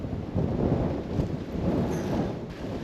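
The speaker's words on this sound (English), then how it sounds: "For some reason today it's super windy." Strong gusty wind buffets the microphone in Coyote Gulch, a low, rumbling roar that swells and eases across the moment with no voices.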